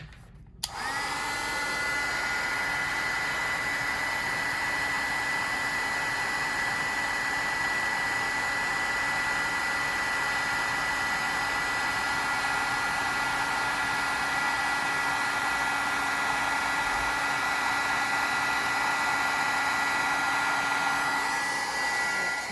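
Heat embossing tool melting embossing powder for a paper craft, a loud constant blowing hum that starts abruptly and runs steadily without pause, with no talking.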